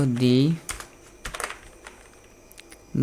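Quick clicks of a computer keyboard, a short burst of keystrokes in the middle, with someone speaking just before and after.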